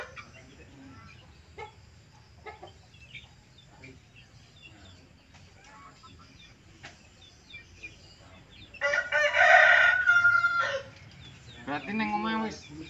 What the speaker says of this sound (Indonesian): Ayam betina bisa berkokok.